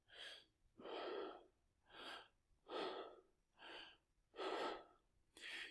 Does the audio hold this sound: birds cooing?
no